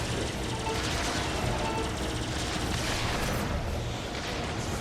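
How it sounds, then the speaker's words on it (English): Laser fire and explosions from shooting down targets in the video game Star Fox Zero form a dense, loud, continuous barrage of blasts and booms with no pauses, and no voices. "let's go ahead and shoot down the rest"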